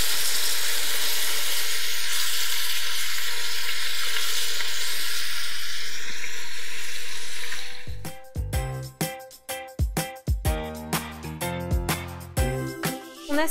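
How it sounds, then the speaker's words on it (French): Pieces of wild boar sear loudly in a pan of butter and oil, a steady dense sizzle that then breaks into sharp clattering scrapes and stirring knocks as the meat is turned. "On a saisi nos morceaux de sanglier"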